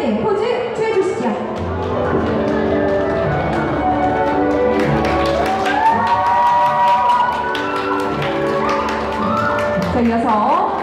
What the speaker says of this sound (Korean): 여러분들의 박수 소리로 최후의 2인이 결정됩니다.